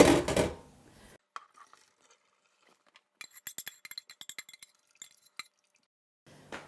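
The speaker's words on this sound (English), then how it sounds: "I'm going to drain it in this colander in the sink and let it cool down" Boiled meat poured from a pot into a colander in a kitchen sink for a keto carnivore protein bread, a loud splashing rush at the start, then scattered clinks and metallic taps, and a second short pour near the end.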